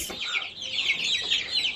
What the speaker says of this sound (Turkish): Bu horozu yakından çekmek istedim.